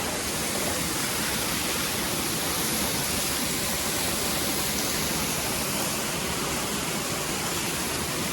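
The Gaighat waterfall at Galkot roars in a loud, unbroken rush of falling water that stays constant from start to finish, with nothing else heard.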